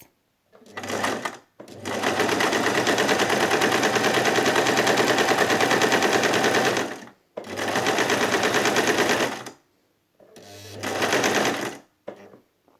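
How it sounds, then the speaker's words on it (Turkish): A sewing machine stitches backward while making a buttonhole, running loud and close in three long mechanical whirring bursts with short pauses between them. "Şimdi geriye doğru bir dikiş yapacak."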